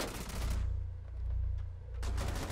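Gunfire bursts in the Rainbow Six video game, dense crackling volleys at the start and again near the end with a lower, muffled stretch between, fairly loud and close.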